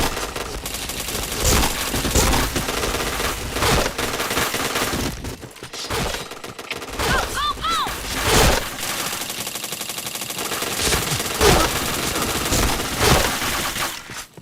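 Gunfire in the shooter game Point Blank: loud rapid bursts of automatic fire with sharp single shots and brief metallic chimes, near and dense, broken by a short lull midway.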